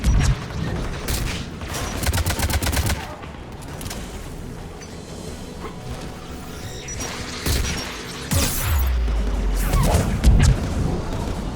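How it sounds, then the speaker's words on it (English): Anti-aircraft guns fire in Mass Effect 3 with rapid bursts of heavy gunfire, crashing impacts and deep booms in dense, loud battle noise. "AA guns ahead."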